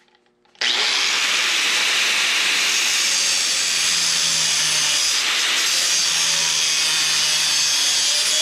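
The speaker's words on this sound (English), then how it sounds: "decided just to put a cutoff wheel on my angle grinder" A cutoff wheel on an angle grinder slices through the corners of a metal rear spring mount, starting abruptly after a short quiet moment and then holding a loud, steady, hissing shriek right up close, with no talking.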